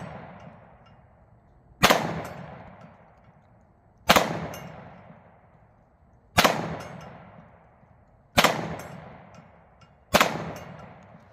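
An M&P .357 Sig pistol fires five sharp, loud shots spaced about two seconds apart, each a hard crack with a ringing metallic tail that fades before the next.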